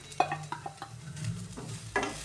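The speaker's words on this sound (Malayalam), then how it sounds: "വാടി വന്ന മുരിങ്ങാപ്പൂവിലേക്ക് നമുക്ക് അരപ്പ് ചേർത്ത് കൊടുക്കാം." Ground coconut paste being stirred into wilted drumstick flowers in a hot pan, with soft close scraping strokes and dull clinks over a low sizzle, irregular and moderately loud, with no voices.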